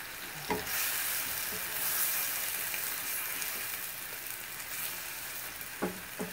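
Soft, steady sizzle of food cooking in a pan after a pinch of salt goes in, preparing bone-in chicken coq au vin, with a few light clinks of stirring.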